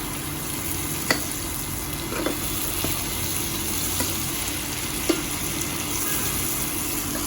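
Ginger, cumin, green chilli, Kashmiri chilli powder and garam masala frying in a little ghee, a steady, even sizzle close up with a few light clicks of stirring.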